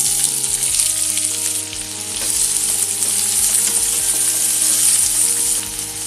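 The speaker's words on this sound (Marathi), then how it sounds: "तेल तापलेलं आहे। कांदा घालूया।" Chopped onion fries loudly in hot oil on full flame for dried bombil chutney, a dense continuous sizzle close up that swells slightly partway through, with no voices.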